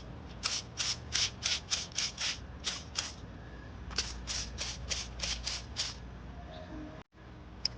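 Foam is sprayed onto a car's door jambs in a quick series of short hissing spurts from a trigger sprayer, about fifteen evenly paced bursts in two runs, close and clear with no talk.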